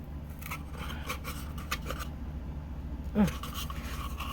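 Small plastic pieces being carefully pried off a Dollar Tree toy truck, with soft scraping and rubbing scratches close by and one sharper pop as a piece comes free.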